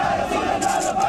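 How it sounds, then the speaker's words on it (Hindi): A large crowd of protesters in Hyderabad shouts slogans together, a loud, steady roar of massed voices with rhythmic chanted peaks, heard from close by. "प्रदर्शनकारी बड़ी संख्या में नारेबाजी कर रहे हैं।"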